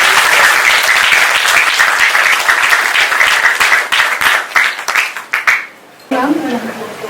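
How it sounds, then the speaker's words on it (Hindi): Audience applause at a certification ceremony for transgender learners, a sustained burst of many hands clapping close and loud for about six seconds before cutting off, followed by a brief stretch of voices. "सब ताली के लिए"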